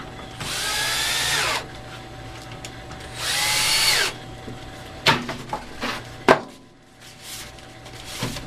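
A power drill bores pilot holes in wood for a DIY bird feeder, two whining bursts of about a second each, followed by several sharp knocks and taps as the pieces are handled.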